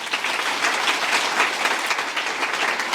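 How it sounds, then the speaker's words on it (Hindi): Audience at a spiritual center gathering breaks into sustained, dense applause, many hands clapping together in a steady, even roar for the full three seconds, with no voices standing out. "तो कितनी तालियां होनी चाहिए"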